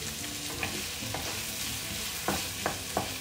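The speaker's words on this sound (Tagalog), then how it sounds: "Lulutuin lang natin yung garlic hanggang sa maging brown." Onions and garlic sizzle steadily in hot oil in a pan for goat adobo, with a few sharp scrapes and taps of a spoon stirring against the pan.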